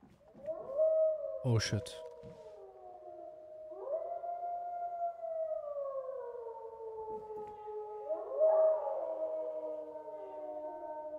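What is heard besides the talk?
wolves howling in video game DayZ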